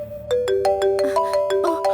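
A bright electronic ringtone melody of quick repeating tones plays continuously, clear and fairly loud, with no voices.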